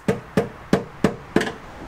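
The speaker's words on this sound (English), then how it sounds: "I know you shouldn't really hit a flathead with a hammer" Five sharp metallic hammer strikes on a flathead screwdriver, evenly spaced about a third of a second apart, close and clear with nothing else heard.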